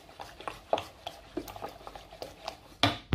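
Eggs being stirred into a tuna tart filling in a bowl, a faint series of soft clinks and scrapes of a utensil against the bowl in an uneven rhythm.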